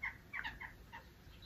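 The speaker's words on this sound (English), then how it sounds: "The birds are fighting." Birds squabble outdoors, a quick burst of sharp squawks and chirps at moderate distance, faint against quiet background.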